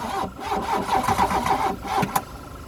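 A classic VW Scirocco, unstarted for six years, cranks with a rapid rhythmic churning of the starter, the engine catching a few uneven firing attempts without settling into a run.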